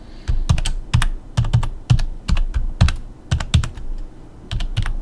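Password being typed on a computer keyboard: a close, brisk run of clicking keystrokes in uneven bursts, with no voices.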